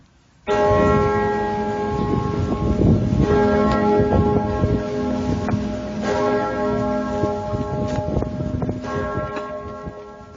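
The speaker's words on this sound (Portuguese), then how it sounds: "os sinos começaram a tocar novamente, me avisando que já eram 8 horas da manhã." Church bells in São Paulo ring out loudly and continuously at 8 in the morning, their overlapping tolls sustained and resonant throughout, with no voices present.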